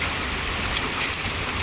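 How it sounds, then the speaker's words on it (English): Hail falls onto grass and pavement during a summer severe thunderstorm, making a dense, steady hiss of many small impacts with no talk over it. "There's the hail here."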